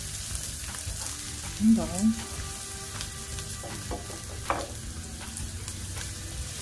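Garlic sizzling in hot cooking oil for beef salpicao, a steady soft crackle with brief stirring and clinking, while a person briefly speaks nearby.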